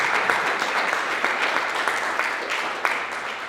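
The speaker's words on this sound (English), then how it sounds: "let's give her a round of applause" A conference audience at an education event applauds in a dense, steady burst of many hands clapping. The applause stays fairly loud and even throughout, with scattered sharper claps standing out.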